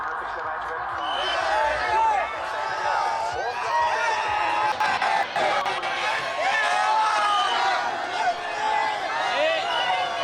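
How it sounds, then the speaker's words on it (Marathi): Young crowds celebrate India's T20 World Cup win on FC Road in Pune, with a dense, lively hubbub of voices and cheering heard throughout beneath a reporter talking over the scene. "ही सगळी तरुणाई आहे जी पुण्यातल्या एफ.सी. रोडवरती उतरलेली आहे आणि जल्लोष करते आहे"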